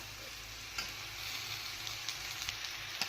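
Chowmein with capsicum stir-fries in a pan, a soft, steady sizzle with several light clicks and scrapes of stirring, close and fairly quiet with no talk.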